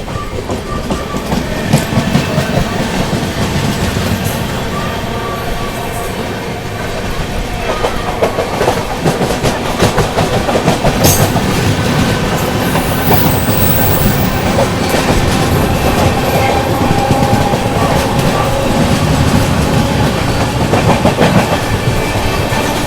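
Patna–New Delhi Amrit Bharat Express running at high speed in a parallel race beside another train, loud and close, with continuous rumble, rhythmic clickety-clack of wheels over rail joints and occasional brief squeals.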